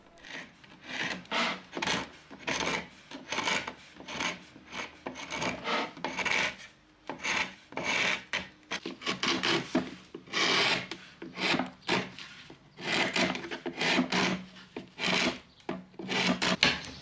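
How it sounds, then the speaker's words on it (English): A paint scraper rasps old, brittle paint off the trim and corners of very old wooden dovetailed drawers, in steady repeated close-up strokes with short pauses between them. "I'm going to start with my scraper to get into the corners"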